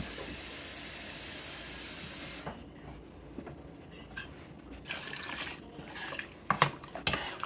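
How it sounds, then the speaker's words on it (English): Water pours into a pot of homemade beef soup as a steady, bright hiss lasting about two seconds. It stops abruptly, followed by quiet kitchen sounds with a few light clinks and knocks. "I want to add 2 cups of water to bring it up."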